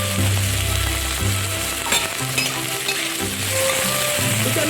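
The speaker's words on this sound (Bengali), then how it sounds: "তেলের ওপর গোটা গরম মশলা দেওয়ার পরে তেলের ওপর একটা কুচানো পেঁয়াজ দিয়ে দিচ্ছি।" Chopped onion sizzles loudly in hot oil with whole garam masala spices, the base for a chicken maharani. Close, steady frying crackle with occasional stirring scrapes and no talking.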